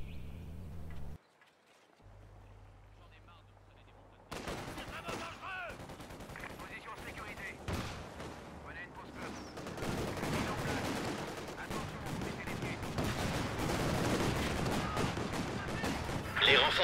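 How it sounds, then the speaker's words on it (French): Gunfire strikes the HQ in a real-time strategy video game, with sustained volleys of small-arms shots and bursts building into dense, continuous fire after a brief quiet stretch, alongside occasional voiced unit callouts. "Notre QG se prend des tirs."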